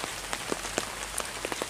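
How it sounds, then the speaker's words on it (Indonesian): Rain falls steadily around an abandoned house overgrown with bamboo, with scattered louder drops tapping on the surface and the roof, close and fairly quiet with no voices. "Hujan lagi nih."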